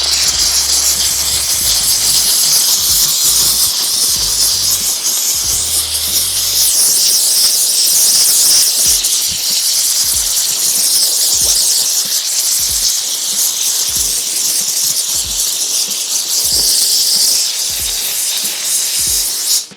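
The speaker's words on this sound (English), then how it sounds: "I'm just gonna give it one more quick steam and then we're gonna wipe it off." A steam cleaner hisses steadily and loudly on WeatherTech floor mats for the whole stretch, a constant high rushing spray with faint low knocks underneath.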